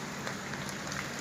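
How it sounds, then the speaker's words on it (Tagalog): Steady rain falling during Typhoon Aghon, a dense, even hiss of drops pattering on surfaces and likely corrugated metal roofing, continuous and fairly close with no voices. "umuulan pa rin dito hanggang ngayon sa amin."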